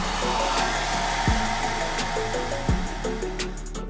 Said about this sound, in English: put it on, count to 30, let it start, then finish it off with a hairdryer